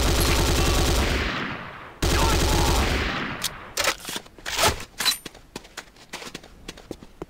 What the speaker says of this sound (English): The next weapon is the Corbretti AR-70 Raptor automatic rifle